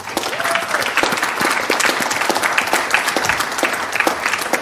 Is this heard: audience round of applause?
yes